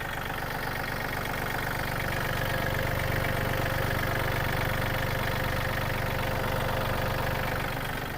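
A 2022 Yanmar EF393T tractor engine idles steadily throughout, a continuous mid-low rumble with a faint knocking rhythm, close and alone with no talk.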